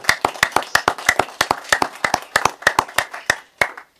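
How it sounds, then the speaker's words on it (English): Light, sparse hand clapping in a city council chamber, a small number of people giving distinct, evenly spaced claps for several seconds before it fades out. "Deserves a round of applause"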